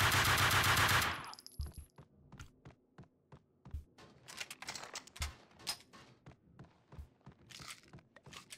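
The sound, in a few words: gunfire shooting at the player in video game Max Payne 2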